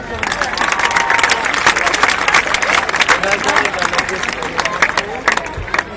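A crowd applauds soldiers of the Oz 77 battalion at an outdoor military event, with steady, lively clapping mixed with crowd murmur and cheering, and voices talking throughout.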